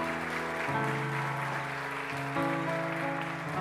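A soft, hissing wash of congregational applause in a church service blends under sustained keyboard chords that shift pitch a couple of times.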